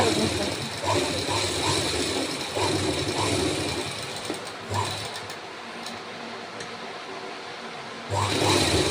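A sewing machine runs in bursts while stitching tucks on a boat neck blouse, its steady whirring motor pausing briefly near the middle and picking up again at the end, with a voice speaking faintly underneath.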